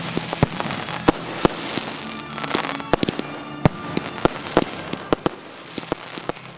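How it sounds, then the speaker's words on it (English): Fireworks at an annual school display crack and bang in a rapid, irregular volley of sharp reports, some loud and near, others fainter, with crackling between them. "We associate this time of year with the annual school firework display."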